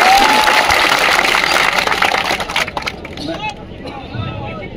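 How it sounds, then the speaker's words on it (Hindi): Loud crowd applause for Chief Minister Pushkar Singh Dhami at a paper-leak protest site, thick and close at first, then thinning out after a couple of seconds into scattered claps, voices and murmuring babble. "एक बार जोरदार तालियां मुख्यमंत्री"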